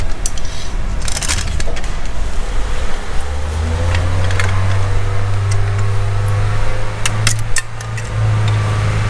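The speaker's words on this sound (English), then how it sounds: "someone's doing an emissions test" A car engine idles steadily during an emissions test, a constant low hum that deepens partway through as the revs settle into a heavier drone, with faint clanks and rattles scattered over it.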